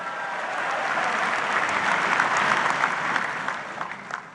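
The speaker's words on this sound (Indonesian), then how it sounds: "Luar biasa, tepuk tangan untuk kita semuanya." A large crowd applauds at a political party gathering, dense clapping building to a sustained roar and fading slightly near the end.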